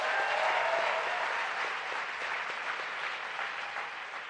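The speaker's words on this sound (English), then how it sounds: "Let's give them another round of applause." An audience applauds two speakers at a talk on advocating for Israel on social media, with steady, dense clapping from a moderate crowd, slowly tapering without speech.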